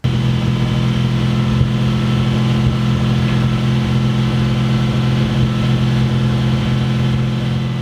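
Jaguar XF fitted with 200-cell catalytic converters, its engine idling in a steady, even hum with no revs and no pauses throughout.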